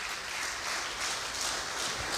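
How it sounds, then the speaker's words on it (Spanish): Congregation applause in a church during a Spanish-language sermon on blasphemy against the Holy Spirit, a dense steady wash of many hands clapping together, fairly soft and continuous, with no voice over it. "Dar un aplauso a Cristo, gloria al Señor."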